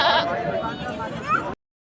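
A goat bleats loudly and close by at a crowded goat market, one drawn-out wavering call lasting over a second before cutting off abruptly.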